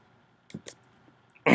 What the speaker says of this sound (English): still burping a little bit